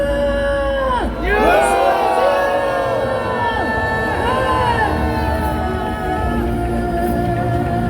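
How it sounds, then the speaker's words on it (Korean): Crowd at a political street rally in Korea roaring and shouting in unison, a loud, sustained mass of voices with rising and falling whoops and yells, close and continuous. "여러분 다시 한번 함성 발사!"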